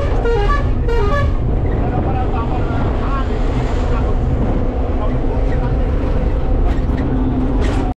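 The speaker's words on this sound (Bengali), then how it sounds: "সে বাস বেরিয়ে গেল" A bus pulls away with loud, close engine rumble, and a few short horn toots sound near the start before the steady drone continues, while people talk nearby.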